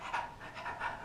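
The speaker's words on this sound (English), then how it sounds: "My dog is over there panting." A dog pants close by, a quiet, rhythmic series of quick breaths repeating steadily with no talk over it.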